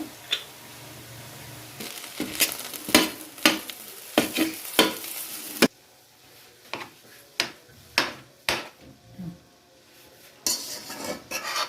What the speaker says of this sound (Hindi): खोया डाल के मैं इसे अच्छी तरह मिक्स कर लेती हूँ।